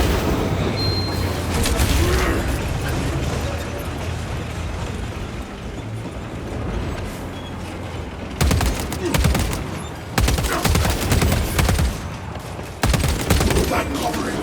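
Sustained gunfire in Warhammer 40000: Space Marine 2, a dense, continuous rattle of rapid shots with heavier bursts and impacts in the latter part, loud and close throughout.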